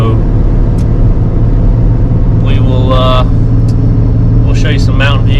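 Tow truck cruising down US 321 in the North Carolina mountains, a constant loud low engine and road rumble from inside the cab, with brief voices over it.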